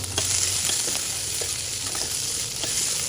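Onion frying in oil left over from frying chickpeas, a steady loud sizzle with faint crackles and occasional stirring throughout, no talking.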